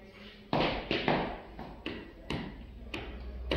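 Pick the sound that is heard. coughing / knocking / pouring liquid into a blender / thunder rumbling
knocking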